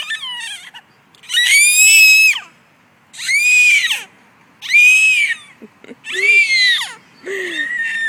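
A child on a playground lets out repeated shrill, high-pitched screams. Four or five long, piercing bursts come close and loud, with short gaps between them.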